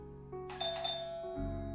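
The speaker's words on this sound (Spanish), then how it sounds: "De pronto sonó el timbre de la puerta." A doorbell chimes at a front door, a quiet multi-tone ring with sustained harmonic tones that shift in pitch over under two seconds, heard alone without talk.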